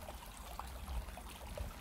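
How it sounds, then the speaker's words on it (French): A small stream trickling beside a trail on the Camino, a steady faint wash of running water with soft gurgles, heard alone and fairly close. "on entend le petit ruisseau"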